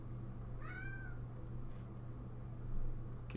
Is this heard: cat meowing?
yes